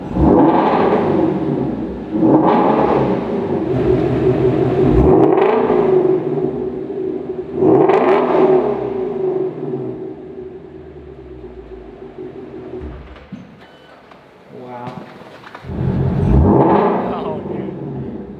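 A 2018 Ford Mustang Shelby GT350 engine revs repeatedly in loud, close bursts, each swelling and falling back to a rumbling idle, with a few quieter pauses between pulls.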